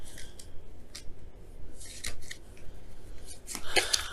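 Tarot cards handled and drawn, soft close slides, flicks and small taps spread over a few seconds, quiet with no talk.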